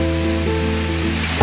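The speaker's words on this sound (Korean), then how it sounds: "천천히 넣어주면서 천천히 볶는 거야." Steady sizzle of stir-frying in a hot pan as hasuo-infused water is poured in, a continuous loud hiss throughout with a brief clatter near the end.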